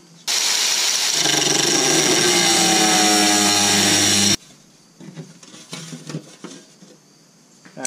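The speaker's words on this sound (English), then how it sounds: "Got some aluminum here, that'd be better. All right, so I gotta trim this up right there." A power tool trims aluminum sheet with a loud, steady, close whine and grinding rasp for about four seconds, then cuts off abruptly, leaving faint clinks and handling noises.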